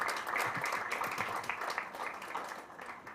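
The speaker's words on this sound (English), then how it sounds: "Another big round of applause for CMP Edith." Steady applause from a crowd at a club charter night, many hands clapping continuously for a few seconds with no voices over it.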